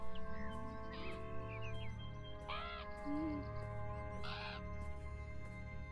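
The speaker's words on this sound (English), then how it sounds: "I guess I need to stay away from the crows." Crows caw in the video game Beyond Eyes, three or four harsh calls spaced a second or so apart over a steady ambient game soundscape.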